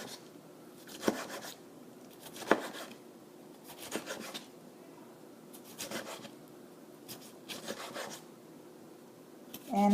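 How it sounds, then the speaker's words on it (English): A knife dices a tomato on a cutting board with soft, evenly spaced strokes and occasional sharper taps, close and quiet with no talking. "Your tomato is completely diced."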